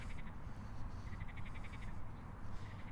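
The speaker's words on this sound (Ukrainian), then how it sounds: "Ви чуєте, як співають жаби?" Faint chorus of frogs croaking in pulsing, repeated bursts over a steady low rumble, distant and continuous, in a Kyiv park with ponds.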